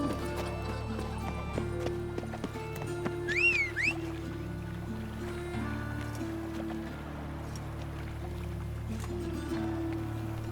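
Roach, a horse in The Witcher 3, moves with steady hoofbeats that carry over a constant game music and ambience bed, and a short whinny rises partway through.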